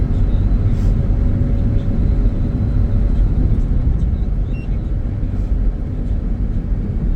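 Steady, loud road rumble and engine drone from a 2006 Chevy Equinox cruising smoothly, with continuous low tire and wind noise and no voices throughout.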